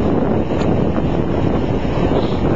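Steady wind buffeting an outdoor microphone at midday on a warm, breezy December 31st in the Philippines, a continuous loud low rumble with no speech over it.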